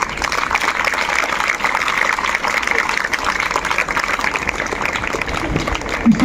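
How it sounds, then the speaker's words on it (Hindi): A hall audience at a Ram temple consecration celebration in Ayodhya gives sustained, dense applause for a welcome, loud and even throughout without a break. "इसलिए और जोरदार तालियों से स्वागत करें आप सब"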